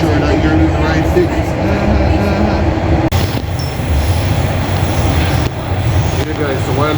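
A Toronto subway train riding along, with a loud, steady rumble and rail noise filling the car and brief squeals, while people talk over it.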